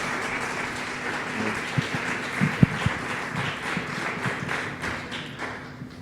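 A small audience at a presentation event applauds at moderate volume, a steady wash of clapping with a few louder thumps in the middle and a faint hum underneath.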